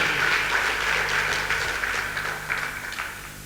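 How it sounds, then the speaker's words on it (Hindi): A seated audience at an indoor team meeting breaks into loud applause for the team, a dense, steady roar of clapping close by that slowly thins and fades toward the end, under a faint hum. "जोरदार तालियां एक बार मेरी टीम के लिए।"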